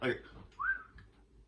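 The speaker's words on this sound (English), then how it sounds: "And I'll give a little whistle because I like that." A brief rising whistle from a person leading a horse on a lead rope, a single short note, clear and close, following a soft brief sound at the start.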